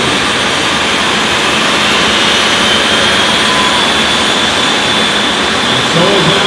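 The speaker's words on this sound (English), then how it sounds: "believe both of these cars sport track looking jet engines" Jet engines on two drag racing cars spooling up at the start line of a jet dragster event, a loud, steady, continuous roar with broadband hiss, close and unbroken throughout.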